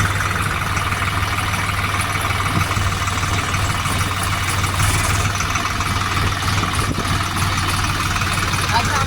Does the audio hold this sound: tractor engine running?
yes